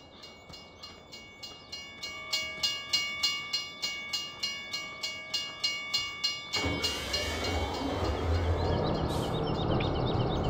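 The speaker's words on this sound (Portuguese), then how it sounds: "Não, o trem parou na estação." A train in the video game Farming Simulator 17 rolls into a station with regular rhythmic wheel clacks that give way to a continuous louder rumble as it slows.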